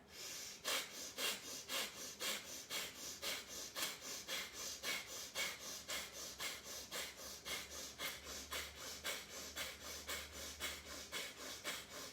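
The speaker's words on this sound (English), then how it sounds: "We will breathe in and out vigorously through the right nostril." Vigorous rhythmic breathing in and out through one nostril, quick even sniffing pulses repeating steadily, close and fairly quiet, with no talking.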